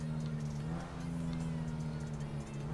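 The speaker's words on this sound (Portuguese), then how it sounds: "Nunca vi tanto carro assim" A dense wash of car engines and traffic fills the streets in Grand Theft Auto V, a steady drone with a low engine hum running throughout, loud and unbroken.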